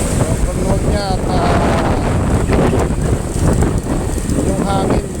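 Wind buffets the microphone on an open road, a loud continuous rushing roar with gusty swells, while a person speaks over it.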